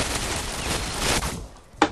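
A burst of rapid gunfire in the tactical shooter Ghost Recon crackles densely for over a second, then fades, followed by a single sharp report near the end.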